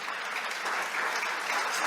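A room full of people clapping in a lecture or orientation session, a dense, even burst of applause sustained at close range for a couple of seconds.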